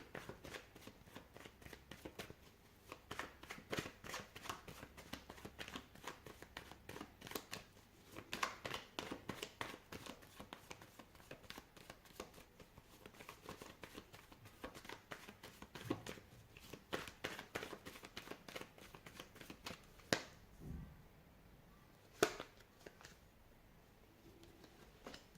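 Tarot cards are shuffled in a quiet room, a soft continuous riffle and patter of card stock with repeated small slaps and bursts, close and fairly faint, with no talking.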